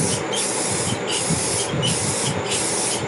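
A continuous close spray of clear coat being painted onto a mower, a loud steady hiss that pulses slightly in regular bursts as the sprayer sweeps, with no talking.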